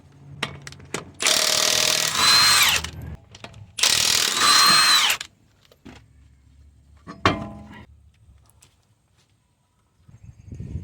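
A ratchet clicks rapidly in two loud bursts loosening 21mm lug nuts on a Toyota Sienna, followed by a few metallic clanks and quieter handling noises nearby.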